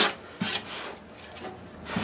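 Stiff 120 grit sandpaper rubs against the wood of a 1976 Martin D-28 guitar, close scratchy strokes that come in short uneven bursts.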